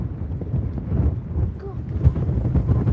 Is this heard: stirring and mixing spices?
no